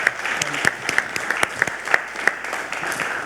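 Audience clapping for an award honoree at a college board of regents meeting, a steady dense wash of many hands with sharper individual claps poking through, sustained throughout.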